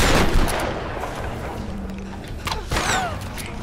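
Gunfire in the video game Tomb Raider (reboot), with a loud opening burst followed by sustained rattling shots and a later cluster of reports, all fairly close.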